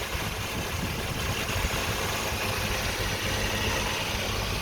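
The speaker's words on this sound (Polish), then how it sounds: "3-litrowa benzyna, która chodzi aksamitnie" A Mercedes W124 300E 4MATIC's 3-litre petrol engine idles smoothly and steadily, a constant low hum with no change in pitch throughout.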